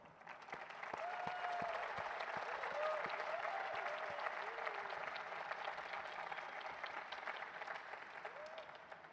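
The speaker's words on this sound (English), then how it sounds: "Please join me in giving them a big round of applause." Sustained applause from a graduation-ceremony audience at a football business academy, a dense steady patter of many hands clapping throughout with faint voices mixed in.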